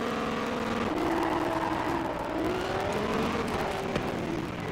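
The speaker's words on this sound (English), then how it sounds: "Launches in third gear just fine." In Forza Horizon 5, a car launches in third gear, its engine note climbing steadily and loud as it pulls away with a faint tyre squeal near the end, no voices over it.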